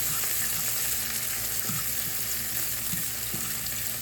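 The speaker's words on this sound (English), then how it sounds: "so we're going to stir up these onions" Onions frying in a pan being stirred, a loud, steady sizzle close by with a few soft stirring scrapes and a faint background hum, no talking.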